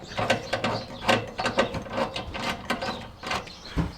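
Ratchet loosening a nut on the under-engine tinware of a Classic Fiat 500, rapid repeated clicking pawl strokes in bursts at close range, no talk.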